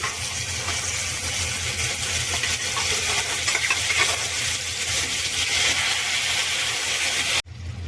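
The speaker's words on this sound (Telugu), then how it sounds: "తాలింపు వేగిపోయింది కదా, దాంట్లో చింతపండు పులుసు వేసేసుకుంటున్నాం." Tamarind juice hits a hot spice tempering for pulihora, producing a loud, dense, continuous hiss that holds steady for several seconds before cutting off abruptly.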